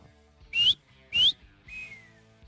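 A person whistles three short, clear notes, the first two sharp and bright, the third a softer falling tone, with quiet gaps between them.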